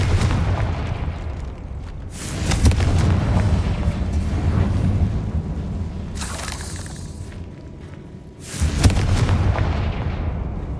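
Confringo fire spell in Hogwarts Legacy: deep booming explosive blasts, a few heavy bursts separated by rumbling gaps, loud and close.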